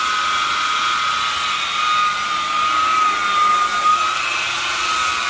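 Polishing machine buffing a painted motorcycle part with a black pad and compound, a loud steady high whine with a sustained tone, close, slight swells in level, no voices.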